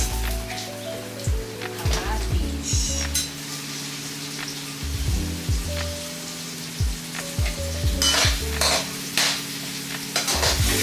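Crushed tomatoes and garlic sauté in a pan with a soft sizzle, broken by repeated scraping stirs of a utensil against the pan in an irregular rhythm, close and moderately loud.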